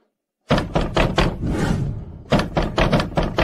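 Repeated knocking on a door, two quick bursts of several sharp raps each, loud and close, with a short rumbling pause between them and no talk.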